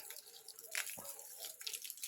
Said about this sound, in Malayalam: ഒരു ചെടിക്ക് വെള്ളം ഒഴിക്കുന്നത് ഇതുകൊണ്ട് ഇങ്ങനെയാണ് വെള്ളം ഒഴിക്കേണ്ടത്